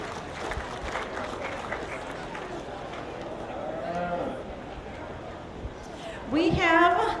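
Applause breaks out near the show ring at a beef cattle show, a burst of clapping toward the end with a cow mooing nearby and an announcer's voice talking over the crowd.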